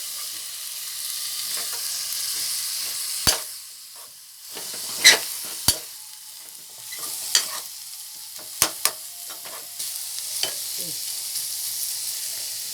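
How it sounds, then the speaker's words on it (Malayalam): A spoon stirs a salted mixture frying in a pan until it dries out: a steady soft sizzle and hiss runs throughout, punctuated by several sharp scraping clinks of the utensil against the pan, close and alone. "ഇനി ഇത് നന്നായി ഡ്രൈ ആയി വരുന്നത് വരെ നന്നായി ഇളക്കി വരട്ടി ഡ്രൈ ആക്കി എടുക്കണം."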